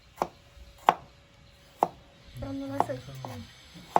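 A knife chops vegetables on a board while preparing Lao-style lab mak chong, with several sharp, separate cuts spaced irregularly, near and clear, as people talk briefly in the background.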